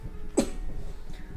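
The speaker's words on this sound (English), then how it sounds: "pardon me, I've still got a pretty nasty cough." A single short, sharp cough from someone with a lingering, nasty cough, close and alone against quiet room noise.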